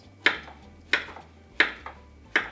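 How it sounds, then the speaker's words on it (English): Bell peppers and onions being chopped for fajitas, four evenly spaced, close knife strikes against a board, each a sharp crisp chop with a softer follow-up tap. "The second step in the process is actually chopping up the vegetables."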